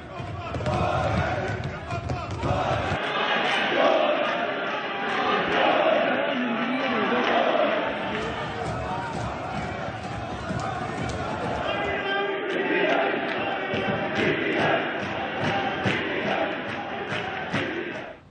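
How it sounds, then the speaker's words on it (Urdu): Members of the Punjab provincial assembly chanting slogans in the chamber before a session, a loud, sustained crowd roar of rhythmic shouting that fills the hall, with a voice talking over it. "اجلاس شروع ہونے سے پہلے ہی ایوان میں نعرے گونجنے لگے۔"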